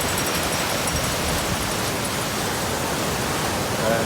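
Big surf rolling in where a river meets the sea at Pundakit, a constant loud wash of breaking waves with no distinct pauses.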